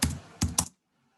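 A short burst of computer keyboard typing as C++ code is entered: a run of clicks followed by two firm keystrokes, close and clear, then silence.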